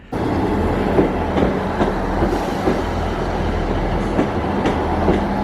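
A train rumbles along close by at Golspie station in the Scottish Highlands, its wheels clacking over the rails at irregular intervals beneath a constant low drone.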